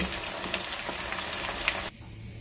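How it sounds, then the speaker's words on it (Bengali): Chili fritters (lonkar chop) deep-fry in hot white oil in a kadai, giving a close, steady crackling sizzle with popping bubbles that cuts off abruptly near the end. "এই লঙ্কার চপগুলো আমি উল্টে পাল্টে বেশ লাল করে ভেজে নামিয়ে নেব।"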